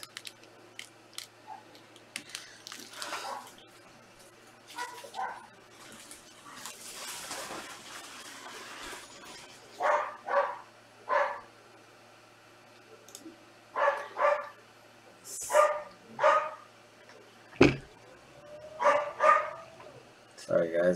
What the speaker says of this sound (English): My doggies are getting loud.